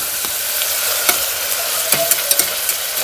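Food sizzles steadily in a frying pan in a home kitchen, a continuous crackling hiss punctuated by a few sharper pops and stirring clicks, close and moderately loud with no talking.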